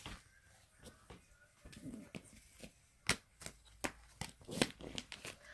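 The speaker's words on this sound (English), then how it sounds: "let me shuffle for you" Tarot cards are shuffled near the microphone, producing sharp, crisp snaps and flicks that grow more frequent in the second half, over a soft background with faint murmuring.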